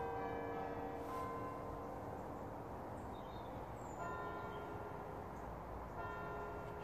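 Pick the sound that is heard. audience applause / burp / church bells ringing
church bells ringing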